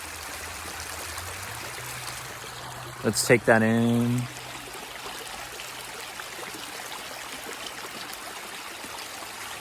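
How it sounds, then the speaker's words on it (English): Steady flowing creek water runs throughout as a soft broadband wash, with a brief spoken phrase near the start. "And of course we are by the beautiful creek here."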